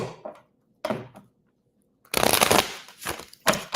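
Tarot cards shuffled by hand in close, crisp bursts, two short riffles followed by a longer fluttering shuffle and a final quick one, with near silence between.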